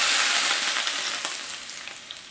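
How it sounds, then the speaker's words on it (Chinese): Hot oil poured over eggplant and preserved egg ingredients for a Hunan dish, giving a loud, bright burst of sizzling that starts strong and gradually tapers off, with no talking. "将热油淋在食材上面"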